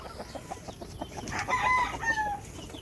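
A rooster crows in the distance, its call rising over a steady background of clucking hens and farmyard noise.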